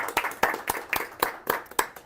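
Audience clapping at a university roundtable, a steady run of about eight crisp, evenly spaced claps, moderately loud and close, with no talk over it.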